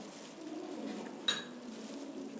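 A spoon clinks once against a bowl while half a spoon of salt goes into a beef tikka boti mixture, a single sharp metallic tap over a soft steady background.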